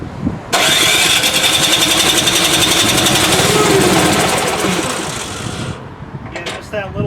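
Snowblower engine starting and running on choke, a loud, rapid, rough putter that holds steady for several seconds, then fades and sputters near the end.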